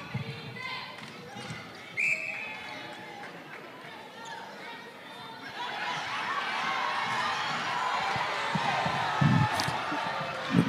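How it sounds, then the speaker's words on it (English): Crowd noise at a USA v Barbados netball match swells into loud, sustained cheering and chatter midway through, with a ball bouncing and occasional shouts beforehand. "The crowd seems to be loving that one."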